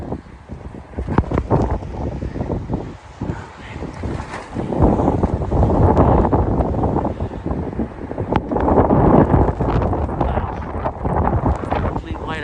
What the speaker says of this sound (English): That is some wind